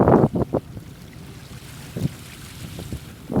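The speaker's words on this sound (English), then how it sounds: "it's too windy, certainly for a painting" Strong wind buffets the microphone outdoors on a sketching trip, coming in loud low gusts at the start, around two seconds and again at the end, with a steady breezy rush between them.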